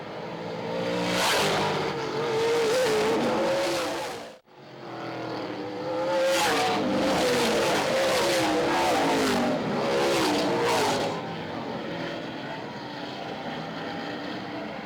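Race cars roar around a dirt oval at Midvale in a continuous loud engine drone that briefly cuts out, then returns with repeated revving surges as cars run through the turns, ending in a steadier hum.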